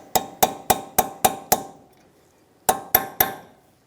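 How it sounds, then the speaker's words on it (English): Sharp metallic hammer blows on a chisel or punch staking down the axle nut of a 2013-2018 Hyundai Santa Fe during front strut replacement: six evenly spaced ringing strikes, a pause, then three more, close and loud. "Let's stake down the axle nut, grab a chisel or a punch, whatever you have, and just squish it down a little bit to lock it in."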